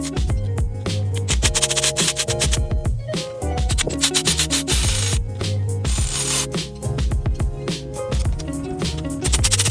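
Ratchet wrench removing bolts from the throttle body of a 1987-91 third-generation Honda Prelude, with rapid continuous clicking pawl ratcheting, loud and close, running without pause.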